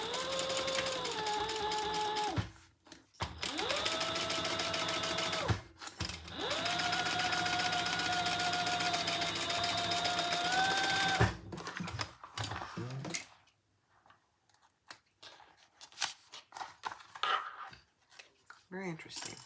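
A sewing machine stitches a rounded make-up bag in bursts of steady whirring, pausing briefly between runs, then stopping as quieter handling and fabric rustles follow; a person speaks around the machine noise.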